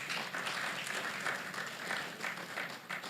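Applause from an audience at a student meet-up with animation professionals, a steady wash of many hands clapping at a moderate distance, fairly quiet and continuous throughout.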